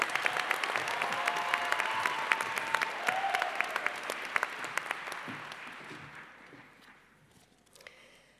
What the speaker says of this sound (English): You all can applaud now.